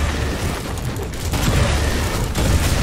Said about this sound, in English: Little explosions, the usual stuff